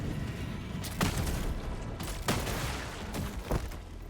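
Gunshots from the Helldivers 2 video game, several sharp reports spaced about a second apart over a steady background rumble of game action.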